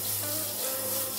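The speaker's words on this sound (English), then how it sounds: "we're ready to rinse with our lukewarm water" Steady lukewarm water runs and splashes continuously while rinsing a shampooed ultra-thin hair system.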